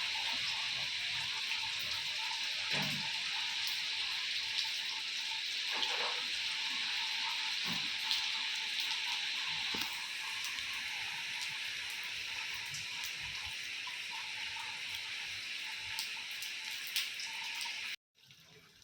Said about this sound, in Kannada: ಇನ್ನು ಮಳೆ ಬರ್ತಾ ಇದೆ ಅಂದರೆ ಇನ್ನು ನನ್ನ ಕೆಲಸಗಳನ್ನೆಲ್ಲ ಬೇಗ ಬೇಗ ಮಾಡ್ತೀನಿ.